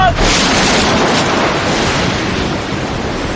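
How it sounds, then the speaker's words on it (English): Heavy ocean surf pounding a sinking sailboat, the Trashman, in a loud, continuous roar of crashing water with gusty wind noise throughout. "As the waves continue to batter the Trashman, her crew scramble for their lives."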